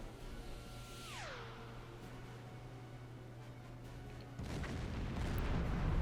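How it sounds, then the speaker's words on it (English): Deck-gun high-explosive shells strike a large, well-defended ship in the submarine game Silent Hunter 4. A descending whistle over a steady low hum is followed by a sudden dull, rumbling burst of impact noise that keeps building. "We've now hit it with a couple of high explosive rounds."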